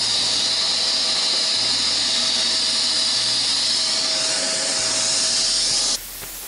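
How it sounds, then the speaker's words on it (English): A Dremel rotary tool sands and softens the edges of wooden dominoes with a loud, steady high-pitched whine up close, then stops abruptly near the end. "take our Dremel and just soften these edges"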